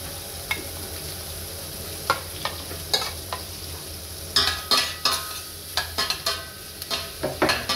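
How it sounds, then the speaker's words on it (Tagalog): Beef fat sizzles steadily in a pan while a utensil stirs and scrapes it, making irregular clacks that come faster toward the end, up close with no talking. "ito yung taba ng baka. Yan. Yung pagmamantikain natin"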